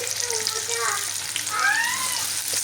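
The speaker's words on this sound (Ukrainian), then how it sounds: "ставимо і обсмажуємо на такому гарненькому, величенькому вогні з двох сторін, щоб була скориночка" Steady crackling sizzle of chicken frying in a hot pan over high heat, close up, while a person talks over it.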